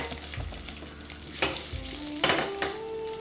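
Anise seeds, three hot peppers and cloves sizzle in hot ghee, a steady close frying hiss with sharper crackling bursts and a spoon scraping as they go in.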